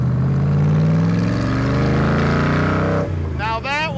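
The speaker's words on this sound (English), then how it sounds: "I pushed out on the throttle that much" A 1965 Shelby Cobra engine revs hard under throttle, a loud, close, rising roar that climbs in pitch for about three seconds, then cuts off as the car passes, followed by brief whistling tones.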